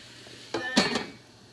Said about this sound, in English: I'm going to put this lid